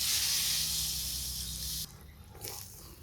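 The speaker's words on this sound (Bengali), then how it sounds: "এখন ঝোলের জল দিই।" Water poured into a pan of frying shingi fish curry, a steady loud hissing sizzle rushing for nearly two seconds before dropping to a quieter bubbling simmer.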